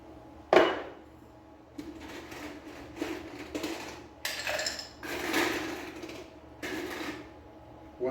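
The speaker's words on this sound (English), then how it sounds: "we're gonna go ahead and add some ice to our shaker here" Ice scooped into a cocktail shaker while preparing a whiskey sour, a single sharp clatter followed by several rattling, clinking bursts close by.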